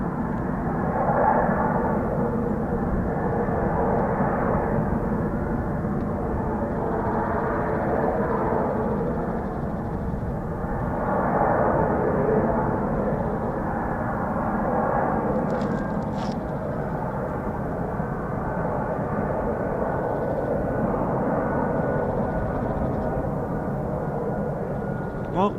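F-35B stealth fighter jet of a naval air squadron making a slow takeoff, a continuous low broadband engine roar that holds steady and distant throughout, with faint voices now and then beneath it.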